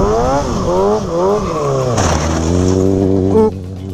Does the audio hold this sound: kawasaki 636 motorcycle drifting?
yes